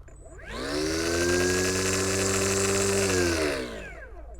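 A Stihl FSA 90R battery string trimmer's electric motor spins up on a low-revs trigger setting, runs at a steady whine for about three seconds, then winds down, close by and fairly loud.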